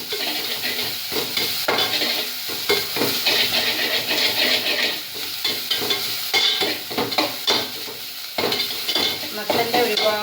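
Pumpkin leaf thoran with grated coconut being stirred and sautéed in a pan, a steady close sizzle broken by frequent scraping and clinking of the spoon against the pan, with no talking.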